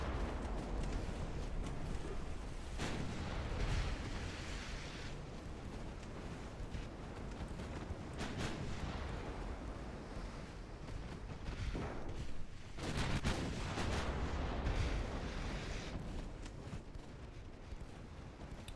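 Booming torpedo detonations and heavy battlecruiser gunfire from a naval warfare video game, set in a French campaign, roll on as a continuous low rumble with repeated louder blasts and no talk over them.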